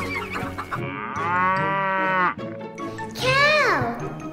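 Two drawn-out cow moos from a children's counting game, the first steady and level, the second rising then sliding down, clear and close with a short gap between.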